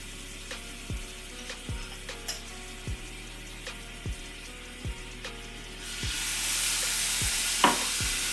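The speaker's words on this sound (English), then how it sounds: "to a heated pan, you're going to add a decently sized hunk of butter" A hunk of butter and minced garlic sizzle in a heated pan under a series of regular ticking clicks, then the frying swells into a loud steady hiss for the last few seconds.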